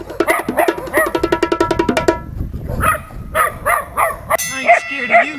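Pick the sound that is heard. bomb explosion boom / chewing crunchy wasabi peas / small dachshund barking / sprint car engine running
small dachshund barking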